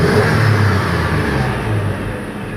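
A Toyota FJ Cruiser with misfiring and fuel pump trouble revs as the accelerator is pressed, a close, loud engine drone rising and easing with a slightly uneven, rough tone.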